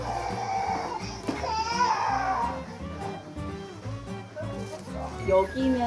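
An infant cries in a building basement during a property tour, a wailing cry that rises and falls over several seconds, mixed with adults talking nearby.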